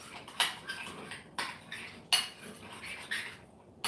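Utensils clink and scrape against a bowl as lemon is mixed into mayonnaise, with sharp metallic taps at irregular intervals over a soft scraping background.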